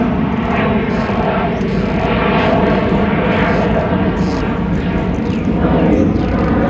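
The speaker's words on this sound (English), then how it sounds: "Let this plane go over." An airplane passes low overhead near an airport, heard from a backyard garden as a loud, steady roar that fills the whole stretch without easing.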